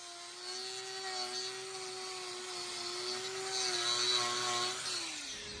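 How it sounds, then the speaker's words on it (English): A power grinder trims exceptionally hard cow hoof horn, giving a steady, high-pitched whine with rough grinding texture that swells slightly before cutting off abruptly at the end. "The pitch of the noise the grinder's making is high, and that's because this hoof horn is exceptionally hard."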